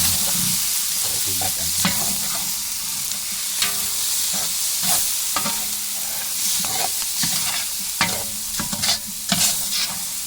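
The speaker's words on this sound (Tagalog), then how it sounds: "Ilagay na natin yung sahog natin chicken." Chicken pieces fry in a pan over sautéed onion and garlic, sizzling steadily while a utensil stirs and scrapes with frequent clattering knocks, close and fairly loud throughout.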